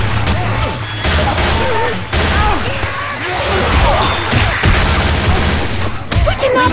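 Dense, loud gunfire from the Left 4 Dead 2 video game, with rapid overlapping shots and crashes across a continuous battle, and voices mixed in beneath the shooting.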